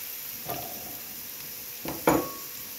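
Stirring added pepper into a pot of vegetables and minced meat cooking in their own juices: a low sizzle with a few soft scrapes and a sharper clink of the spoon against the pot, close and quiet, no talk.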